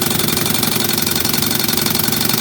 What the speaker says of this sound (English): Idle's pretty nice now. You get it nice and low.